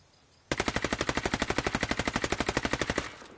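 Automatic rifle firing at a target 150 away in Ghost Recon Wildlands: a single sustained burst of about two and a half seconds, with rapid evenly spaced loud shots after a quiet start and a brief fading tail.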